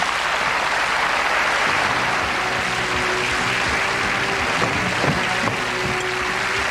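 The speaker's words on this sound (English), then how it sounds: "Round of applause." Studio audience applauding on a televised lottery game show, a steady, dense wash of clapping that stays at an even loudness from start to finish with no talk over it.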